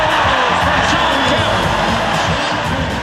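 A dense arena crowd at a basketball game roars and cheers continuously for a Shawn Kemp dunk, a loud sustained wall of voices with no breaks.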